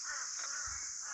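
Several crows caw at a hillside Himalayan temple in Mandi, harsh repeated calls over a steady high insect drone, moderately near, with no talking.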